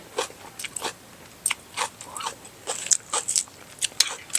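Close crunchy bites and chewing of Thai pork belly leaf wraps with peanut dipping sauce, a series of sharp irregular crunches at varying loudness, with no speech.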